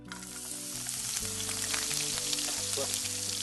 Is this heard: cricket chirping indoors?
no